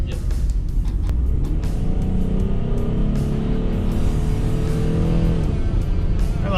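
A Ford Transit van accelerates on a test drive, its engine rising in a steady climbing drone with road and wind noise heard from inside the cabin. The pitch sweeps upward as speed builds, then eases off near the end.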